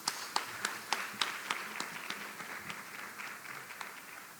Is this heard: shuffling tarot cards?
no